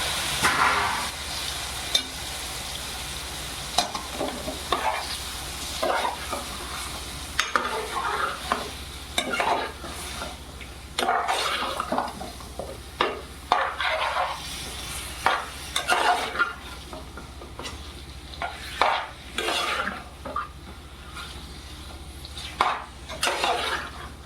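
Chicken leg pieces stirred into a sizzling green gravy in a pan, with repeated loud scraping and clanking of a spoon over a continuous fry, no voices.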